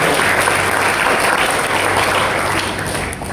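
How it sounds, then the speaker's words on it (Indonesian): A church congregation at an anniversary worship service claps loudly and continuously, a thick close wash of hands filling the whole stretch and dipping only at the very end. "Kasih tepuk tangan bagi Tuhan."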